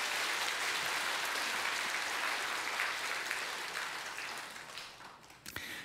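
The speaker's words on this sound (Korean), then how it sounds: "우리 청년들에게 여러분 박수를 보내주시기 바랍니다" A large church congregation applauds steadily, a dense wash of clapping that gradually thins out and fades near the end.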